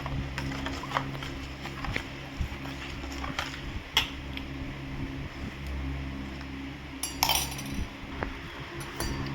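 A spoon faintly clinks against a glass while stirring bael fruit sharbat, with a few soft taps over a low background hum.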